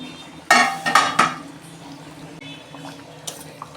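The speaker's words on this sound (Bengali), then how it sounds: "দেখুন বন্ধুরা, ঢাকনা খুলছি" A metal lid comes off a pot of chicken curry simmering in a little water, giving a few close clanks and scrapes in quick succession, then quieter kitchen noise with a faint soft tap near the end.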